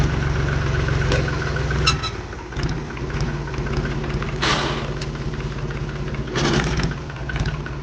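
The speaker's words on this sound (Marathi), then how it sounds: "हा आपला डॉन ट्रॅक्टर आहे" A Don tractor's engine idles steadily with a low, even throb, joined by occasional clatters and knocks, close and fairly loud, with no one talking.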